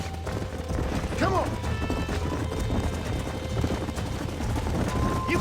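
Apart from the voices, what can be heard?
horses galloping hooves, Red Dead Redemption video game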